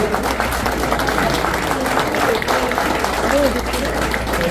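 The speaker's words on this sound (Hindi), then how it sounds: "देखिए आपके लिए लोग खड़े होकर तालियां बजा रहे हैं" An audience at a Hindi comedy poetry gathering in New Jersey rises for a standing ovation, clapping densely and continuously while a voice speaks over the applause.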